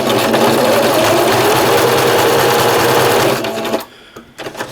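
A sewing machine stitching a patch onto loose jersey fabric: steady, loud, rapid needle chatter running continuously, then stopping abruptly near the end, leaving a few faint handling sounds.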